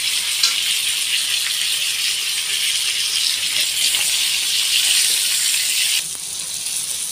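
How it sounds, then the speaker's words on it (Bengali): Pointed gourd (potol) pieces frying in oil with turmeric give a steady, close hiss and sizzle with no speech, softening slightly toward the end. "হলুদ দিয়ে দিয়েছি, এবার একটু উল্টে পাল্টে ভেজে নিলেই পটল ভাজা হয়ে যাবে"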